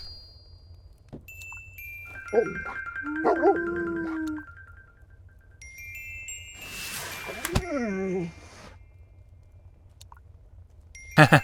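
A dog in The Little Acre video game is startled, giving short yelps and a bark-like cry amid chiming, jingling game effects and soft music, fairly close and clear.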